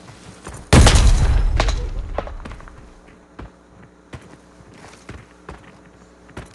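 Footsteps in the video game Arena Breakout follow a loud booming blast, a series of soft, irregular thuds spaced out over several seconds at moderate distance.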